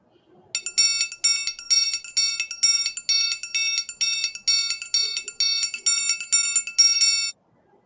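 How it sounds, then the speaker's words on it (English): Triangle struck repeatedly in a quick, even rhythm, bright ringing metallic tones with short decays, about a dozen hits over several seconds before stopping; no voices. "the triangle. This is the triangle."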